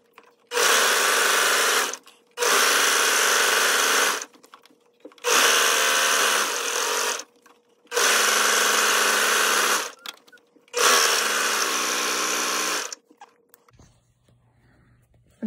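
A sewing machine stitching a lettuce hem on children's sleep shorts runs in five loud, steady bursts of about two seconds each, separated by brief quiet pauses, close up.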